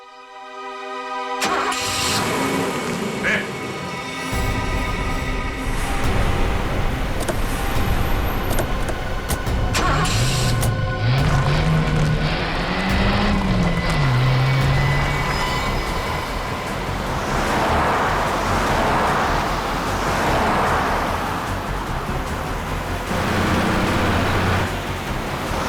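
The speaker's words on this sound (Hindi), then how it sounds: "गाड़ी बहुत तेज चला रही है।" A car racing along with a loud, steady roar of engine and road noise that persists throughout, with rattling and a wavering squeal partway through, close and continuous with no talking.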